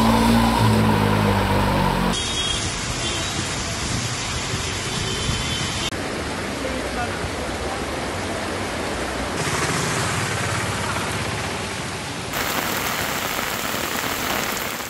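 Heavy night rain pours down in Hyderabad, Telangana, as a dense, loud, unbroken hiss that carries through several abrupt cuts, with no voices.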